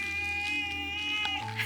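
A street cat in Tokyo meows in a drawn-out, wavering tone, close and fairly loud against steady low background hum, with a brief shift near the end.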